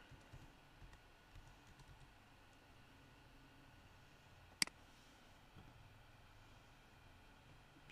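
Quiet typing on a computer keyboard, faint scattered key taps with one sharper click, heard close in a still room with no talk.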